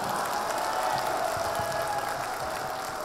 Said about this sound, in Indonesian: Tepuk tangan sekali lagi untuk kita semuanya